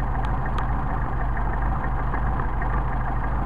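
Mercedes 190SL engine idling around 1,000 rpm on Solex carburetors, a steady, even rumble heard up close with no breaks throughout.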